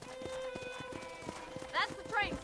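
Rhythmic clip-clop of horse hooves at a steady gallop in the video game Red Dead Redemption, close and continuous, with voices calling out over the hoofbeats.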